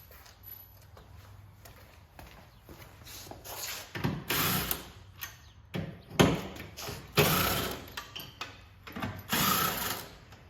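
Car door hinge bolts on a project car being run out with a power tool and T40 socket, with intermittent loud mechanical whirring bursts separated by clanks and handling noises, close up.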